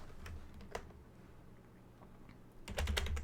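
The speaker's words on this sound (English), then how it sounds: "Bro, I'm typing in chat." Rapid clicks of a computer keyboard being typed on during a card game tournament, irregular bursts of key taps close by, growing busier and louder toward the end.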